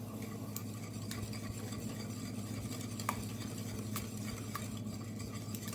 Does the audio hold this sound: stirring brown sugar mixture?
yes